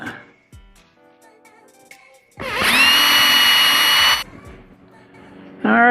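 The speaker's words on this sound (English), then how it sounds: "Get some screws in it." A power drill drives screws into a wooden chicken feeder, a loud close whine held for about two seconds, then a second burst starting, with quieter handling noises before it.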